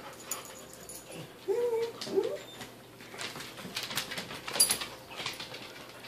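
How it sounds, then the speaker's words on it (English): A female dog howls and whimpers in short, wavering cries, moderately close, against a faint room background with scattered rustling noises. "Good girl howling!"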